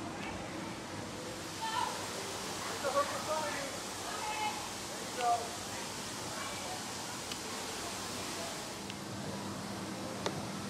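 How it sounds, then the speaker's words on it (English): Water sprays steadily onto a crocodile at an alligator farm zoo in St. Augustine, Florida, a continuous broad hiss with faint voices murmuring underneath. "This guy just has water shooting in his face."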